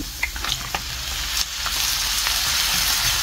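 Carrots and mushrooms sizzle and fry in a pan while being stirred, a steady close crackle with a few sharp scrapes of the utensil along the way.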